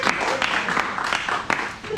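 Several people applaud a game-show winner in a steady, dense patter of claps with a few sharper accents, under a busy room tone and some overlapping voices.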